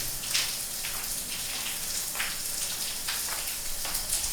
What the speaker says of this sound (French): ferme le robinet.